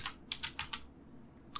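Fingers tapping keys on a computer keyboard in a quiet room, a handful of crisp separate clicks in an uneven rhythm, close but soft, with no voices.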